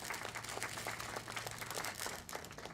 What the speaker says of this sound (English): I got a round of applause.